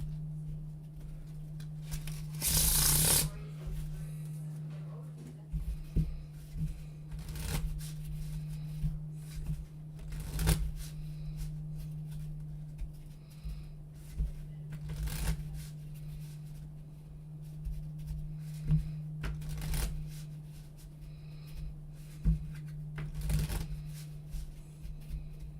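Playing cards shuffled close to the microphone during a magic performance, with scattered riffles and soft flicks spread across a quiet background hum, one louder burst near the start.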